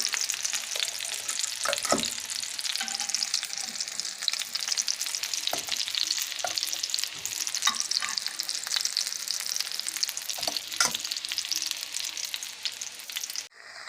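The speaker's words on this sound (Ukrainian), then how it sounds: "формуємо так всі гречаники і обжарюємо з обох боків" Steady crackling sizzle of buckwheat patties frying in a hot pan, continuous and close, with a few soft clinks and scrapes of a utensil.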